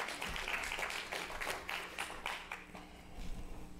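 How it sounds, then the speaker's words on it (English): A church congregation claps together during Sunday morning worship, a dense, fairly faint round of applause with uneven rapid claps and some indistinct voices in the room. "Huge round clap of praise this morning"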